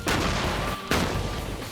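An explosive straight trench torpedo goes off with a loud, close blast, followed within a second by a second sharp burst, both rumbling and tearing across a wide band.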